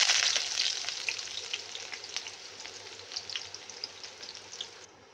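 Onions fry in oil with cloves and cardamom while being stirred, for a chana dal chicken curry, starting as a bright burst of sizzle that eases into quieter crackling with light scraping, then cuts off; no speech.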